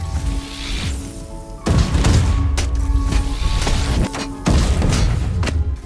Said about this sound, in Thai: ยิงเฉยๆไม่ได้ด้วยนะทุกคนต้องชาร์จยิงเท่านั้นนะครับ